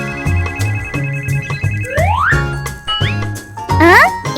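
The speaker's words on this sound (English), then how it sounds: "that's the phone." A phone ringtone plays as a bright, repeating electronic melody with rising sweeps over a steady musical backing, loud and close, with a voice faintly mixed in.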